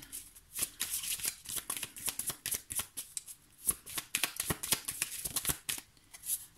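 Oracle cards shuffled by hand in a quick run of crisp, papery riffles and slaps, close and fairly quiet, with cards falling in irregular bursts throughout and no talking.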